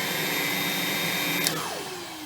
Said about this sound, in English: has a much different sounding brush roll motor